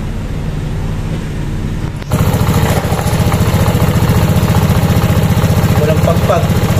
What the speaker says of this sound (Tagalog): Warm up muna natin, tapos saka natin balik.